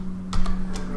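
Keys clack on a computer keyboard in a few quick separate taps, close and fairly clear over a steady low electrical hum.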